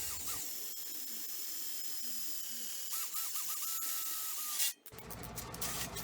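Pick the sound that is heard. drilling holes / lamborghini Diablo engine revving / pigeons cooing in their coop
drilling holes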